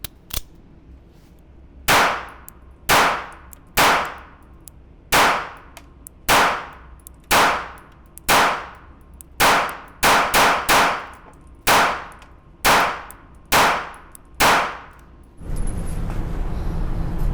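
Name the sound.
9mm pistol gunshots firing SPD 15-round magazine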